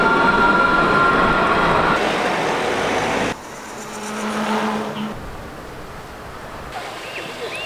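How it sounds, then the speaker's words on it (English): A Songjiang mini tram runs through a Shanghai district, its rolling rumble and wheel squeal loud at first, then easing off to a quieter hum with faint passing noises, with no talk. "Yes, that's right, it's a tram."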